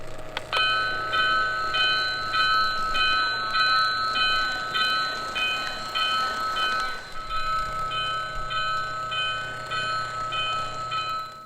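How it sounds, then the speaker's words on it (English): A bright, metallic bell rings repeatedly at a steady pace from a Lionel model diesel locomotive, clear and close, over a faint low hum, then keeps ringing more softly. "the bell button on the right activates the realistic bell"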